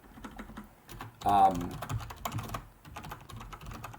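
Quiet, steady clicking of keys on a computer keyboard as code is entered, with a brief louder burst partway through.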